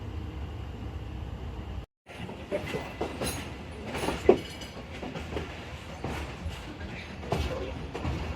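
Tezgam Express passenger train rolling into Lahore railway station, a steady rumble of carriages with irregular clanks and rattles from the wheels, close by and continuous apart from a brief dropout near the start.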